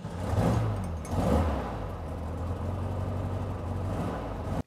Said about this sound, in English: so we can do a true cold start.